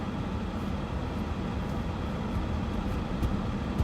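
Broadband wind rushes and roars steadily throughout, buffeting the microphone during a live storm chase of a long-track supercell in central Nebraska, with low rumbling gusts and no voices.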